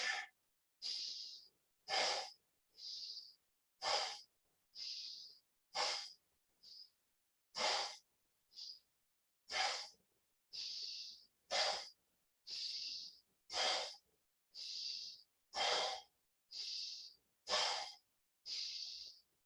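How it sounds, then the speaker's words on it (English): Breathing in and out during an exercise lesson: about eighteen short, close, airy breaths in a steady rhythm, each a distinct puff separated by brief silences. "Inhale. Exhale, push."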